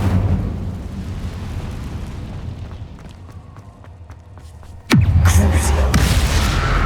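A fiery Incendio spell blast erupts in Hogwarts Legacy with a sudden, loud whooshing boom after a stretch of rumbling and scattered clicks, followed by a roaring burn. A voice is heard in the mix.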